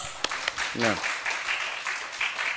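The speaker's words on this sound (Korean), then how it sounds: "복음 전하는 믿음의 백성들을 위해서 한번 박수 칩시다" A church congregation claps together at an evening healing service, the dense patter filling the room while a voice rises briefly over it.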